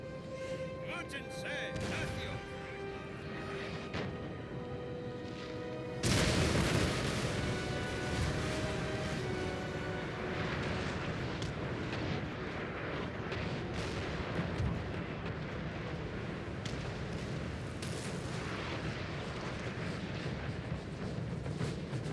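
Howitzer artillery booms in a Napoleon Total War battle, a heavy blast followed by rolling rumbling fire and scattered distant shots, with voices talking over the din.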